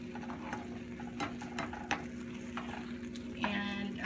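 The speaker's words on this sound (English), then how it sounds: "Put it on really low heat and just kind of stir occasionally." Creamy mushroom and caper sauce simmering on low heat, with a soft bubbling hiss and occasional light stirring taps against the pan, faint and close, plus a steady low hum in the background.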